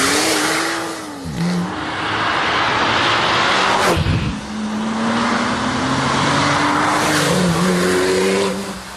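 A Porsche 911 Turbo S accelerates hard from a launch-control start, engine note climbing through rising sweeps with short breaks at gear changes under loud wind and road roar.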